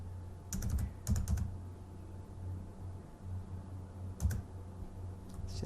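Keys clatter on a computer keyboard as an Excel formula is typed, quick clustered bursts of tapping with pauses between, close and fairly quiet over a low steady hum.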